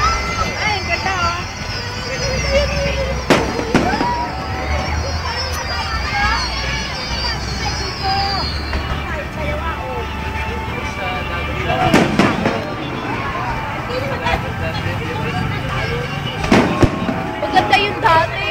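Fireworks burst in a Christmas night display at Mall of Asia, with irregular sharp bangs and crackles of varying loudness over a constant murmur of crowd chatter and nearby voices.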